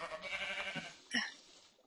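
Sheep in the video game Minecraft let out two short bleats, the second louder and sharper, close and alone with no talk.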